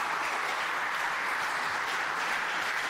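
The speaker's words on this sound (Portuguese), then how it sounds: "Uma salva de palmas, pessoal." An event audience gives a round of applause, a dense, even patter of many hands clapping that stays steady from start to finish with no voices over it.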